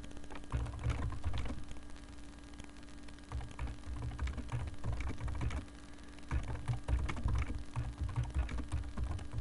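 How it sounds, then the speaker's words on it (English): Rapid, uneven clicking of keys on a computer keyboard, typed in bursts with brief pauses, close and fairly quiet. "now you can hear me typing on the Ustream channel"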